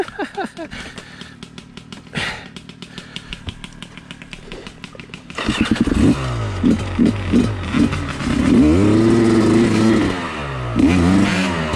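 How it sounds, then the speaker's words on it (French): A Sherco 250 two-stroke dirt bike engine buzzes and revs close by, rising and falling in sharp bursts, louder and rougher in the second half. "Ah, la moto de terre"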